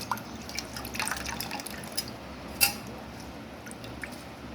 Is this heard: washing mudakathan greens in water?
yes